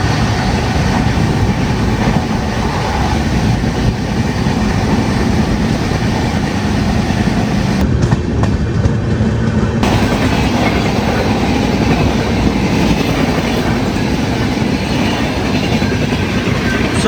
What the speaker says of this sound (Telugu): ఇక్కడ వెళ్తుంది కదా ఈ ట్రైన్ వచ్చేసి హజరత్ నిజాముద్దీన్ సికింద్రాబాద్ డురంటో ఎక్స్ప్రెస్.